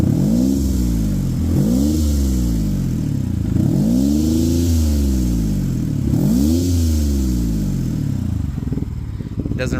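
A warmed-up car engine with a random misfire revs repeatedly in four rising-and-falling sweeps, loud and close, with a steady idle in between and no ticking.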